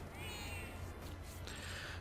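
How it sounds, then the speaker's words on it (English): A catlike Digimon in Digimon World Re: Digitize gives drawn-out meowing cries over a dense, steady game background, the mewing tones rising and falling through the clip. "Oh, she makes meowing noises."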